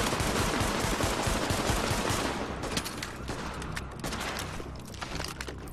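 Rapid automatic gunfire in The Division, dense continuous bursts of shots with a few sharper individual cracks as the firing thins out, loud and close throughout.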